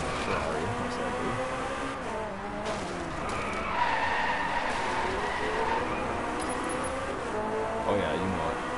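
Tires squeal and skid almost continuously from a Ferrari racing in DriveClub, along with a loud engine, while someone talks over it.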